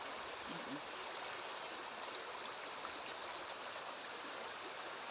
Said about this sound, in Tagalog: Mababa lang yung sapa rito eh.